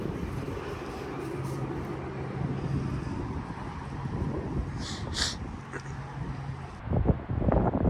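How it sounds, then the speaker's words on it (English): Gusty wind buffeting the microphone on a hillside cattle farm, a steady low rumbling roar that swells toward the end, with a few faint higher sounds in the background and no clear talk. "It gets really quite windy."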